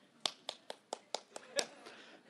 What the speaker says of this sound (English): Yeah, you can clap. It's all right to clap.